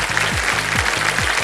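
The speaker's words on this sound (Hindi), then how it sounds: "ताली बज गई पहले से ही" A game show studio audience clapping in rhythmic unison, steady loud applause filling the room with evenly spaced beats for its whole length, with no talking.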